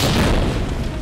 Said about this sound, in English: So that's a grenade.